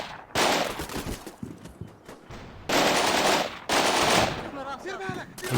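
Bursts of PKM machine gun fire in the war game Combat Mission Shock Force 2 rattle in long loud stretches with pauses between, mixed with battle noise and a voice speaking.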